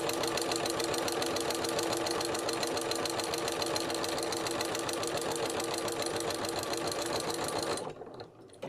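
Close, continuous whirring chatter of a sewing machine zigzag stitching over twisted threads to form a decorative cord, running steadily for several seconds before stopping.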